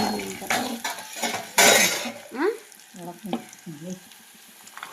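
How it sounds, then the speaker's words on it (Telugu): Boiled pigeon peas sizzle and fry in a pan, with a spoon stirring and scraping against the metal. Bursts of sizzling alternate with clinking, and a voice is heard faintly underneath. "బాగా ఫ్రై చేసేసుకోవాలి వేసేదా గుగ్గులు వేసేదా"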